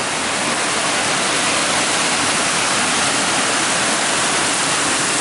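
Heavy rainwater pouring off a roof valley in a downpour, a loud, continuous splashing rush of water heard close by, steady throughout with no speech.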